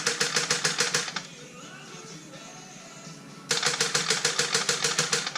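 A low-battery engine cranked over without fuel, the starter making rapid, regular chugging pulses that stop for a couple of seconds and then resume, loud and close, with no speech.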